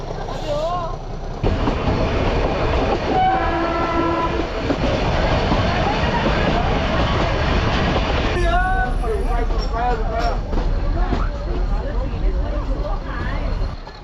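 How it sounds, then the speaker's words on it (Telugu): Ooty toy train, a hill-station railway now hauled by a diesel engine, passing loudly with rumbling wagons and clattering wheels, a horn sounding midway, followed by squeals and chirps as it rolls on. "ఈ ట్రైన్స్కి ఏంటంటే స్టీమ్ ఇంజన్స్ ఉండేది. బట్ ప్రజెంట్ అయితే డీజిల్ ఇంజన్స్ రీప్లేస్ చేశారు."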